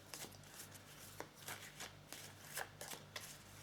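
Tarot cards are shuffled and drawn from a deck, making a quiet series of soft papery flicks and riffles in irregular bursts over a faint low hum, with no voices.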